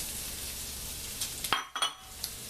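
Bacon and onions sizzle in a pan for fried cabbage, a faint steady frying hiss broken by a couple of clinks and scrapes of stirring near the end.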